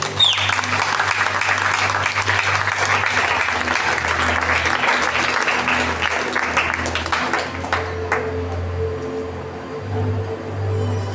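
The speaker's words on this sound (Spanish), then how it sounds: "Bríndele fuerte el aplauso al Señor." Church congregation at a Spanish-language service claps strongly and continuously, with a low organ or keyboard drone underneath, before the clapping thins out near the end.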